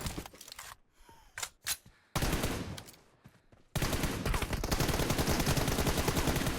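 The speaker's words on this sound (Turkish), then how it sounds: "Niye o kadar kötü sıktım ben?" Pistol fire in the video game PUBG Mobile comes as a few sharp, close shots, then dense bursts of rapid gunfire fill the rest, loud and continuous.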